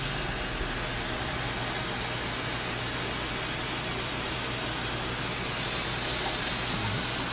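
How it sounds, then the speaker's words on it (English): Hot water gushes steadily from a tap or pot over glass canning jars packed with peaches, a dense continuous rushing that swells slightly louder near the end, with no talking. "I'm going to add hot water in there and splash it all over."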